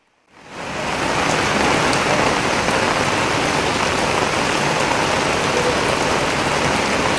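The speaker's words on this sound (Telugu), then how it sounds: "హైదరాబాద్లో భారీ వర్షం కురుస్తుంది." Heavy rain pouring down in Hyderabad, rising from near silence within the first second into a loud, dense, unbroken roar of drops hitting surfaces that holds steady throughout, with no voices.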